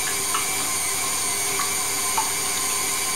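An electric mixer whisks egg whites to soft peaks for lemon meringue, giving a steady, even whirring hiss that holds throughout without a break; no talking.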